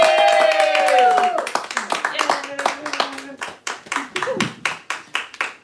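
Applause and rhythmic clapping from a tiny audience of about four people at a live-streamed comedy show, starting under a voice and then continuing alone as a steady, thin beat of claps.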